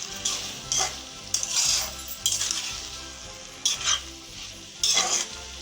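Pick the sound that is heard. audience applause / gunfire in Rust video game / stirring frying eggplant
stirring frying eggplant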